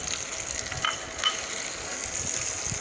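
Sliced onions hitting hot oil in a pan alongside fragrant spices, a steady close sizzle and crackle with a few soft stirring clicks.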